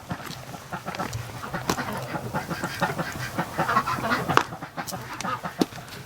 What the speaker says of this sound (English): But they were all outside, crazy ducks.